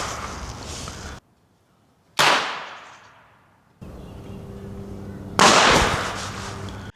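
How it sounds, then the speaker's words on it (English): Firecrackers burst in an outdoor amphitheater, two loud sharp cracks separated by quiet, each followed by a fading echo, with a low steady background rumble between them. "We also have these firecrackers, and we're about to use these right now to do the same test."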